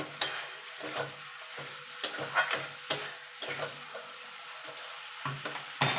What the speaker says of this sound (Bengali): এবার জোরে দিয়ে আমি নেড়ে নেবো